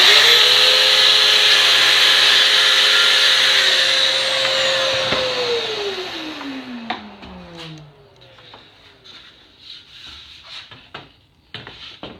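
Festool track saw with a 4-tooth blade cutting a Boral board, dust extractor running, a loud steady whine that spins down into a falling pitch, followed by scattered handling clunks.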